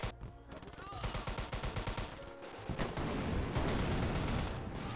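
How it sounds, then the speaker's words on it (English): Rapid, loud gunfire and heavy booming artillery from WW2 video game Easy Red 2, a stuttering burst of shots giving way to a dense, continuous rumble of battle. "Did I call for an artillery strike in the wrong place?"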